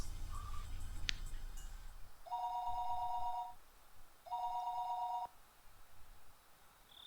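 A telephone ringback tone sounds as a call goes out, two clear electronic ring bursts about a second long separated by a pause, heard alone and fairly quiet after a brief beep.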